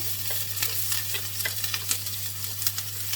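Onions, green chilies and garlic fry in hot oil with toasted cumin for tofu aloo pies, a dense continuous sizzle with crackling pops and stirring scrapes over a low steady hum, no voices.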